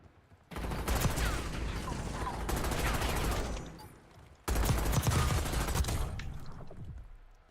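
Heavy bursts of gunfire from the video game Call of Duty Warzone, loud and sustained in two volleys with a short lull between them, no voices over it.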